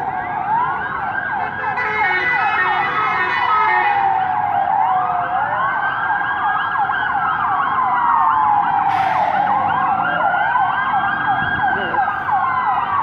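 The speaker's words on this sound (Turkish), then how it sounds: "İtfaiye sesleri." Fire engine sirens wail loudly and continuously as the trucks arrive at an emergency scene near a school in Mersin, Turkey, overlapping rising and falling tones with traffic noise beneath.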